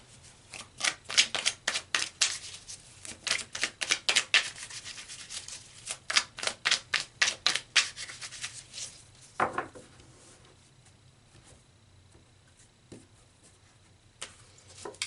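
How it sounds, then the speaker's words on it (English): Tarot cards shuffled by hand in a rapid series of crisp riffling bursts for about eight seconds, close and clear, then settling into quiet with a few light card taps. "So let's pull some more cards."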